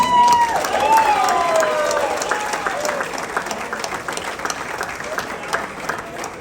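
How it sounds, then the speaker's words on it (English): An audience at an Air Force Thunderbirds pilot introduction breaks into broad applause for the Thunderbird 2 pilot, steady crowd clapping with a few cheers rising over it. "Huge round of applause for Thunderbird 2, Zeke"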